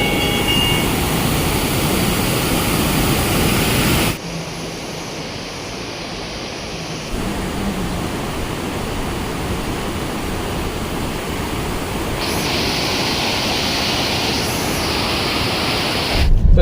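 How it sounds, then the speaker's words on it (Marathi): A roaring waterfall beside the Dudh Papeshwar temple thunders in a dense, continuous rush, loud and close throughout, shifting slightly in tone as the listening position changes, with no voices. "सुसाट धबधबा आहे."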